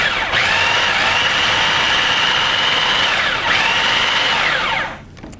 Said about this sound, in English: once everything's in the food processor, I'm going to mix it all together